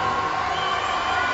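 Crowd murmur and cheering at the Delhi 2010 Commonwealth Games swimming pool, a steady dense wash of many voices filling a large indoor venue, continuous and fairly loud throughout.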